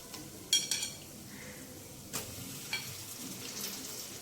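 Onions frying in a pan give a faint, low sizzle, broken by a few sharp clinks and scrapes of a utensil against the pan.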